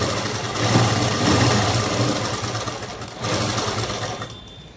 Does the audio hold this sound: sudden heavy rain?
no